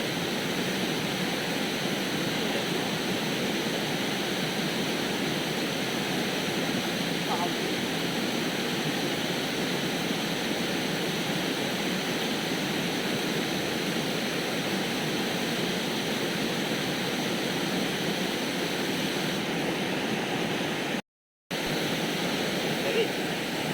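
Water flows steadily in a broad, continuous rush along a slippery path where freshwater shrimp are being caught, loud and close, with no clear talk over it.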